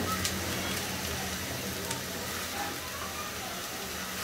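Sliced onion fries with cloves, cinnamon and bay leaves in a pan, giving a steady close sizzle and crackle throughout, with faint speech in the background.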